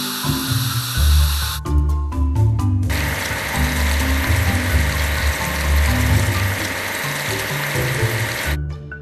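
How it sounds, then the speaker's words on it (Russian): A red SUV being washed with water in a video game, a loud steady hiss of spraying water lasting several seconds, preceded by a few sharp mechanical clicks over a low droning game background. "Нужно вымыть красный внедорожник."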